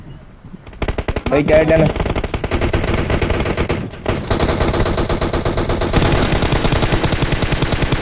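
Rapid gunfire bursts from a PUBG Mobile weapon stuck on single-fire mode, loud and continuous throughout the game audio, with someone talking briefly over the shots.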